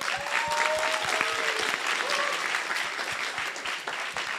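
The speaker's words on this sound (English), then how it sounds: "Let's give them a round of applause." Audience applause at an international physics tournament grand final, a dense steady clapping from a crowd that runs the whole stretch, with a few faint voices and tones over it.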